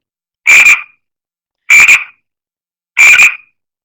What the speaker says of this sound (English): it plays that frog sound